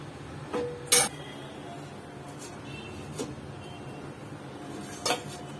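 A metal pot lid clinks against the pot while moringa stem soup is drained: a few sharp, quiet clinks, two closer taps near the start and one near the end, with faint kitchen noise in between.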